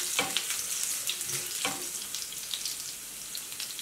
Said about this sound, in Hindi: अब हम इसमें ऐड करते हैं गार्लिक और इसे एक बार चला देते हैं।